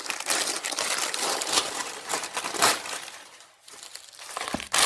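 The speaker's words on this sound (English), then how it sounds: "I have two hands to unwrap my present" Wrapping paper crinkles and tears as a present of new comics is unwrapped by hand, a close, continuous rustling with louder crunches and a brief lull near the end.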